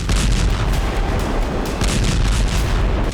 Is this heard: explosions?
yes